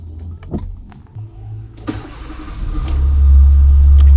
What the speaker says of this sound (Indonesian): dengarkan suara mesin dari Nissan March.